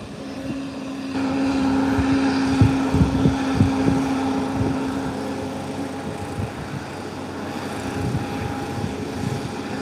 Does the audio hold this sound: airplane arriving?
yes